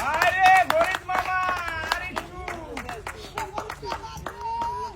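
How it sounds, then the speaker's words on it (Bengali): An audience claps for two contestants at a funny game show event, a run of quick, sharp hand claps beneath a prominent, animated voice and crowd noise. "আমাদের এই দুজন প্রতিযোগীর জন্য সবাই একটা জোরে তালি হবে"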